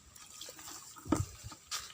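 Water poured into a hole dug in clay as a rural fish trap: quiet trickling with a couple of distinct splashes and drips, faint and close, with soft background noise.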